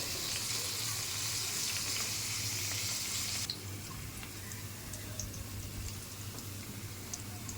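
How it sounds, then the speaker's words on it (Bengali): Dried red chillies fry in hot oil in a pan, a dense close sizzle that drops abruptly to a softer crackle partway through, with faint ticks and no talking. "2টা শুকনো মরিচ একটু ভেজে দিতে হবে"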